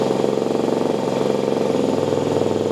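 An MGB ATX-T 125 motorcycle engine idles steadily, a close, even mechanical putter with a fast regular pulse, no voices.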